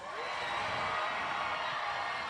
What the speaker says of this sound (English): I heard some pretty excited cheers going on.